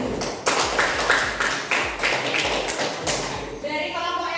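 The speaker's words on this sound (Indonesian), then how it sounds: "tepuk tangan untuk kelompok 3." Classmates clap for a student group in a classroom lesson, producing a quick run of rhythmic, close-sounding claps with thudding taps before a voice starts speaking.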